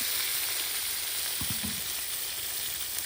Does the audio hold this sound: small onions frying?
yes